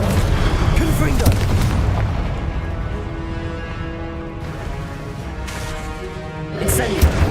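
Hogwarts Legacy Confringo spell blasts go off as heavy booming explosions in the game, with a sustained rumbling roar, music-like tones and a fresh burst near the end, while a voice talks over it.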